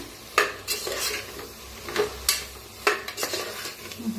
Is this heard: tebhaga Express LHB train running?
no